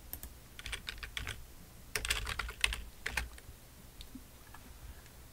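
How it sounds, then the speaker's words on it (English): Fingers type on a computer keyboard in short quick bursts of close, crisp clicks separated by brief pauses, fairly quiet and with no talking. "So I'll type it down here so you can see it."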